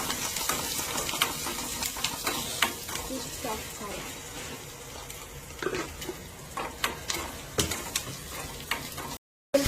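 Tomato gojju cooking in a pan in a home kitchen: a steady low sizzle and frying hiss broken by repeated scraping and stirring clicks of a spoon against the pan, moderately close and fairly quiet.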